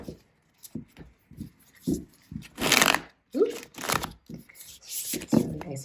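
A Buffy tarot card deck is shuffled by hand in quick, papery riffles and bursts of varying loudness, with a voice talking between them.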